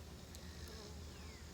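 Faint, steady buzzing of honeybees from nearby hives and wasps flying around blooming allium flowers in a garden, a soft, continuous drone with no voices.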